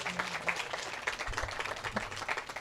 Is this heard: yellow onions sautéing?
no